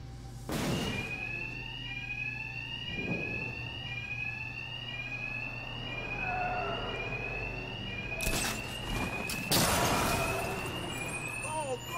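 A ringing alarm inside a building in Batman: Arkham Knight sounds steadily through the clip, with a repeating pulsed tone, several loud thuds and impacts, and someone talking over it.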